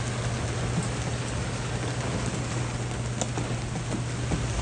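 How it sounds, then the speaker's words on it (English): Dense, steady downpour of heavy rain hissing on surfaces with occasional distinct drops, close and unbroken, over a low constant hum. "it was raining pretty hard, so it was coming down pretty hard"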